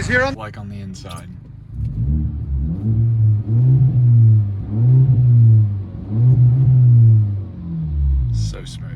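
A 2011 Audi A5 2.0 Quattro with straight pipes revs repeatedly, giving four or so loud surging blips over a deep idle rumble. Short bursts of talk come at the start and end.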